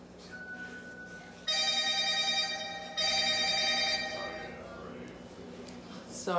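A cell phone ringtone chimes indoors in repeated tonal bursts, moderately loud and slightly distant, cutting off near the end.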